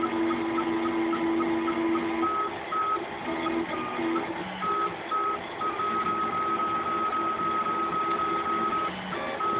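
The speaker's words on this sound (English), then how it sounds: "I think we're nearing the end of our print job." A Prusa Mendel 3D printer prints a cube, its stepper motors whining in sustained tonal notes that shift pitch and pause in steady steps, loud and close with no talking.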